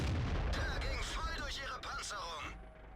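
A Soviet medium tank cannon fires in World of Tanks, heard as a heavy booming shot with a rolling tail, while someone talks over it.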